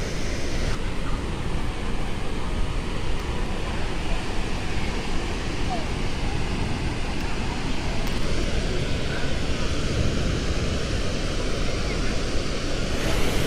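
Water gushes from four open outlets of the Xiaolangdi Dam on the Yellow River near Luoyang, Henan, during its flood release. It makes a loud, unbroken roar of rushing, spraying water that holds steady throughout, with wind buffeting the microphone.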